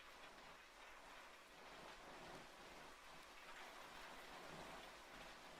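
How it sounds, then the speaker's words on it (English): Steady rain falls outdoors during open-air cooking of borscht, a dense, even patter that holds at a constant low level with no voices over it. "Unfortunately, the rain is increasing, so I will speak louder."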